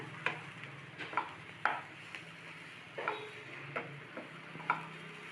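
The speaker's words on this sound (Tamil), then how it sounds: "கரம் மசாலா, ரெட் சில்லி போட்டு மிக்ஸ் பண்ணிக்கிங்க." Vegetables being stirred with garam masala and red chilli in a pan, a spoon scraping in slow, regular strokes every second or so over a soft background sizzle.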